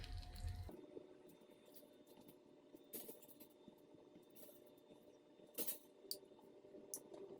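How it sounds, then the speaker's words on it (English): Glass canning jars of blueberry jam cooling after processing, with a few sharp metallic lid pops and clinks scattered through a quiet room, spaced seconds apart and fairly faint. "The lids have already started to pop, and that's a good sign."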